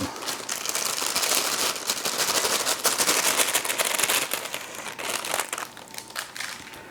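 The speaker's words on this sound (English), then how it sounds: "And now I have to peel off the top layer of parchment paper." Parchment paper being peeled off a tray of freshly baked Zeeuwse bolussen, sticky cinnamon-spiced pastries coated in melted sugar, giving a close, continuous crinkling and crackling rustle across the whole stretch, loud and with no talk.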